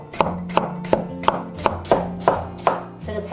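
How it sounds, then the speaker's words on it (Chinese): A kitchen knife slices white radish into thin slices on a cutting board, giving a steady series of about nine crisp, close chopping knocks at an even rhythm. "然后切成薄片。"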